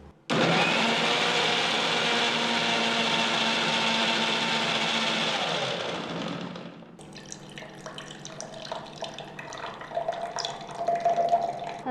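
A blender whirs loudly and steadily for about six seconds, churning seedless grapes with water into juice, then winds down and stops, leaving quieter clinks and handling noises for the rest of the clip.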